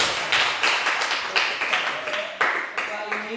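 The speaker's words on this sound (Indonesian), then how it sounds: "Beri tepuk tangan lagi." A classroom of students claps for group 4 after its presentation: a loose, uneven patter of hands in waves over a few seconds, fairly close, with some voices underneath.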